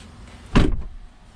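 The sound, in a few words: car door of BMW iX closing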